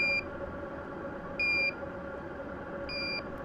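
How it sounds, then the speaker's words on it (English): A carbon monoxide detector sounds its alarm over a steady blowing hiss, with three short electronic beeps spaced evenly about a second and a half apart. "the alarm that you would have if you were in danger"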